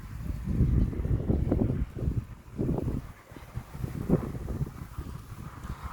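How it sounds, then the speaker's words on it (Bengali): Gusts of wind swell and fade in low, rushing waves, with a soft rustle of leaves underneath, in South Africa. "দেখেন বাতাসের কেমন শব্দ শোনা যাইতেছে পাতায় পাতায় লাইগা"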